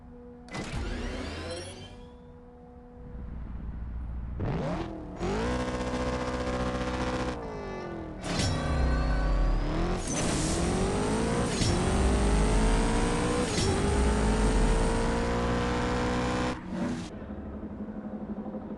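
A Ford Mustang drag racing in the CSR Racing 2 mobile game, its engine revving hard through repeated gear-shift sweeps, loud and continuous with brief dips between shifts and no talk.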